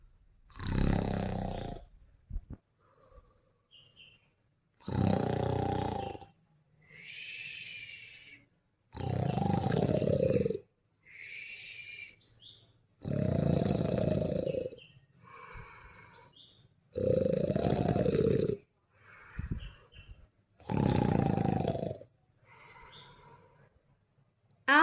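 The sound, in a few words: storyteller imitating the Gruffalo snoring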